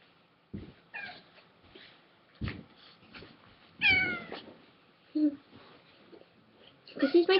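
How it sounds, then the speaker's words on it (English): A pet cat meows several times in short, separate calls, close and fairly loud, with quiet pauses between them. "This is my cat."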